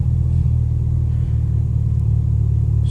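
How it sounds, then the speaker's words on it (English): A car engine idles in a garage with a steady low rumble throughout, close and even, with no voices. "So I will start the car."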